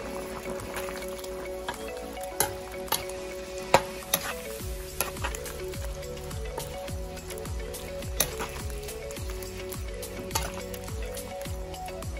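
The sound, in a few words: stirring menudo in a frying pan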